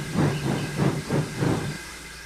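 A steam locomotive puffs and hisses in several rhythmic bursts, the loud chuffs fading out at the end.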